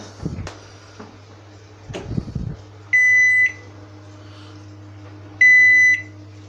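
A repaired microwave oven hums steadily with a low drone, a couple of clunks and handling knocks early on, then gives two clear, loud electronic beeps a few seconds apart.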